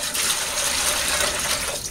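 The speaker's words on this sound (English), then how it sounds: "So this is one way of getting all the water out" Water drains steadily out of a pool filter in a continuous rushing, splashing flow that stays loud and even before easing slightly at the end, with no voices.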